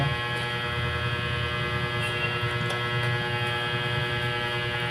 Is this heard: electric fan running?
yes